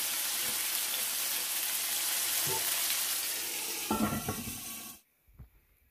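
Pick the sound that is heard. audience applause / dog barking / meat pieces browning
meat pieces browning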